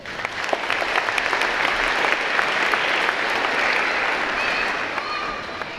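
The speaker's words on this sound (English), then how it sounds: "Please give yourselves a round of applause." Sustained applause from a high school graduation commencement audience, a dense steady clatter of many hands clapping with crowd noise, holding loud and even for several seconds.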